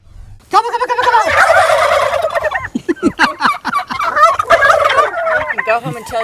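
Several turkeys gobble loudly and close by, a burst of rapid rattling gobbles followed by another round of overlapping calls.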